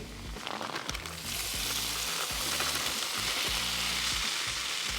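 Potatoes fry in olive oil on a griddle, the hiss rising and settling into a loud, even sizzle, with faint music underneath.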